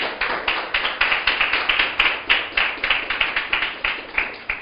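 A church congregation claps together in a steady, rhythmic beat during a Spanish-language sermon, with quick even claps repeating throughout at a consistent, fairly loud level.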